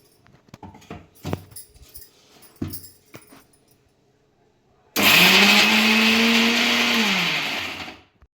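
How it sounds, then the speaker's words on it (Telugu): A mixer grinder whirs loudly and steadily for about three seconds, grinding brinjal chutney with a piece of jaggery, after a few quiet knocks and clinks of handling the jar. "ఈ బెల్లం ముక్క వేసి మళ్ళీ ఒకసారి గ్రైండ్ చేసి చూపిస్తాను"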